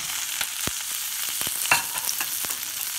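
Chopped raw tomato frying in oil for chutney, a bright constant sizzle with scattered pops and a spatula scrape or two, close by and without talk.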